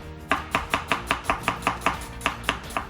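A sharp knife slicing an onion on a cutting board, about a dozen crisp, evenly spaced chops in a quick steady rhythm, close and clear with no voices.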